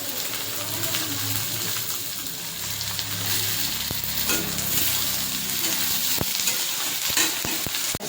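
Eggplant pieces sizzle in hot oil in a pan with fried garlic and a small tomato, a steady broadband frying hiss with stirring clatter and a few sharp utensil clicks near the end, no speech.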